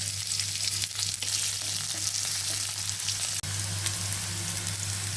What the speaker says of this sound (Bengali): পেঁয়াজ লাল করে ভাজা হয়ে গেছে।